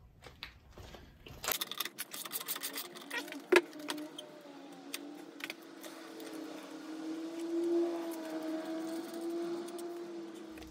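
Metallic clinks and scrapes from a 19 mm wrench loosening the rear wheel bolt of a Brixton BX 125 motorcycle, close up, with one sharp knock and a low steady hum behind, no talking.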